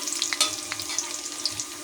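Onion rings sizzle in hot oil in a pan, a close continuous crackle with a few quick scraping stirs, brief and moderately loud.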